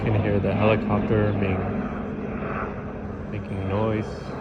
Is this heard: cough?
no